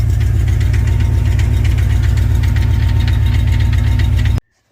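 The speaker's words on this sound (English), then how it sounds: "It's got a flex plate bolt or something tapping." A squarebody truck with a stroker 334 engine idles loud and close, a steady low rumble carrying a quick repetitive tapping rattle from a loose flex plate bolt, running alone for over four seconds before cutting off abruptly.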